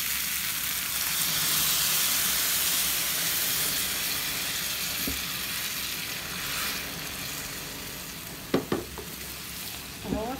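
Tomatoes go into a pot of browned meat for a taro and tomato sauce stew, giving a loud, steady close-up sizzle and steaming hiss, with a few sharp clinks of a utensil near the end.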